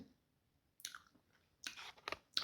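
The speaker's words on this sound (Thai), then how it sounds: "กัดเข้าไปบ่มีความกรอบ นุ่มอย่างเดียว" A large chestnut is bitten and chewed up close: a quiet pause, then a few soft, moist bites and chewing bursts in uneven clusters, with no talking.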